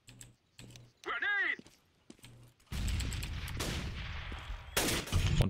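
Grenade explosion and gunfire in a competitive first-person shooter match, a sudden loud blast followed by sharp bursts of shots, layered with keyboard clicks and brief talk earlier.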